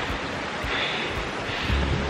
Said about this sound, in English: Just caught my first glimpse of the falls, and there is water falling